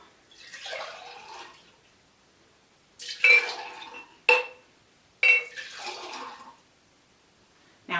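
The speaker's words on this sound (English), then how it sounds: "Pour back and forth a few times to mix." Clear chemical solutions for an iodine clock reaction are poured back and forth between containers, giving three separate splashy pouring bursts with short gaps of quiet between them.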